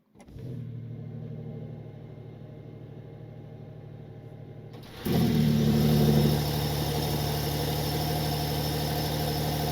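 A 2026 Porsche 911 Targa 4 GTS turbo flat-six engine cranks and fires up, first with a low whir, then a sharp rev that settles into a steady, loud idle rumble.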